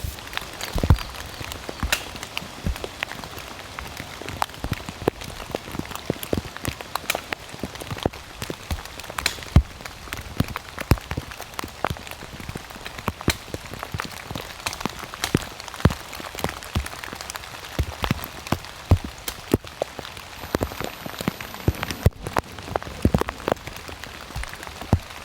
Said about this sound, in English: This is yeah, some of the worst rain I've seen in a while